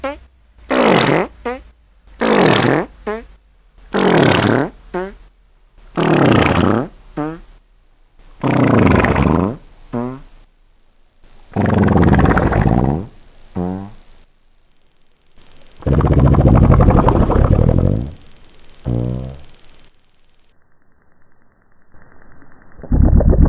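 Fart sound effects edited in Audacity play as about nine loud, separate blasts in a row, each one lower and longer than the last, with brief silences between them.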